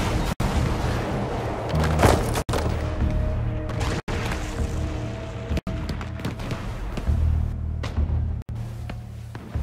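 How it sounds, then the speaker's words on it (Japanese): Repeated deep booms and crashes of heavy cannon fire, loud and continuous, with sharp cuts between bursts and a low rumbling background throughout, in the video game Shadow Tactics: Blades of the Shogun. "大砲に注意しろ。"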